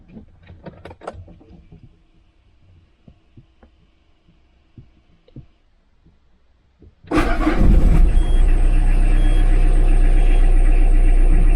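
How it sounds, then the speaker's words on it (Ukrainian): A car engine cranks and starts using a freshly programmed key, then settles into a loud, steady, close idle roar after a few seconds of quiet clicks and handling noises. "Пробуємо заводити авто."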